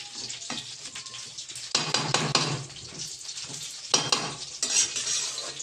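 Fish frying in oil in a pan, a steady loud sizzle and crackle with intermittent scraping and clinking of a stirring utensil against the pan throughout.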